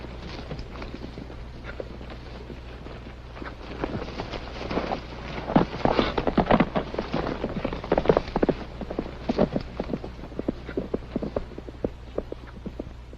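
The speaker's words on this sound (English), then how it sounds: "Get on your horse, Johnny, before the whole town comes after you" Hooves clop in an uneven run that builds and then fades off, with a steady background hum underneath.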